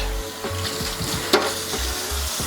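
A bottle scrubber is pushed through the tube of a sausage gun, making short scraping and rubbing strokes close up. One sharper knock stands out midway, and no one speaks.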